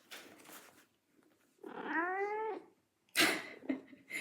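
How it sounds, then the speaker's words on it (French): A pet cat lets out a drawn-out, wavering meow close by in a quiet room, with soft rustling before it and a burst of handling noise afterward. "C'est mon chat que vous entendez."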